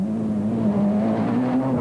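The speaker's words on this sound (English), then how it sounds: "Next through the forest was the Formula 2 Hyundai Elantra of Viljoen and Trier." A Formula 2 Hyundai Elantra rally car races through a forest stage at the 1997 Autumn Trail rally, its engine holding a steady, droning note at moderate distance for a couple of seconds.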